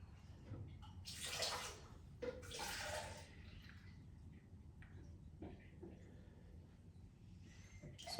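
Liquid pours from a jar in two short gushes, then dribbles and trickles faintly nearby, with soft handling noise and no talk.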